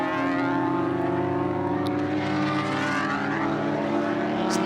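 Mixed E-Production class race car engines at Road America, a loud sustained drone of several different power plants blending together, steady and continuous with no talk.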